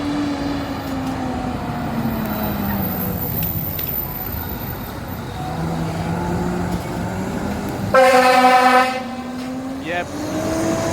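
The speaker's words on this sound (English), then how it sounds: "engine 21's air horns are not in good shape, so that's why it became louder" Air horns on a 2009 Rosenbauer fire engine, in poor condition, blast loudly for about a second in a burst of stacked harmonic tones, echoing over passing traffic and engine rumble on a road in Ohio.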